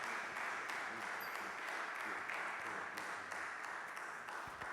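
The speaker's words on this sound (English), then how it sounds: "Let's give another round of applause" An audience at a religious gathering applauds, giving a steady, faint wash of clapping that continues evenly throughout.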